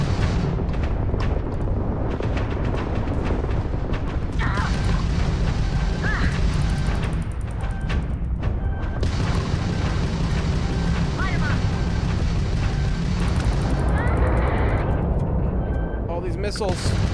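Missiles exploding in the space combat game Starfield, a heavy continuous barrage of booms and crashing blasts under excited talking from a player.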